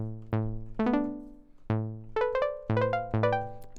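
A synthesizer plucked patch with short decay plays a handful of separate notes and quick little runs, each tone striking sharply and dying away fast, clean and alone.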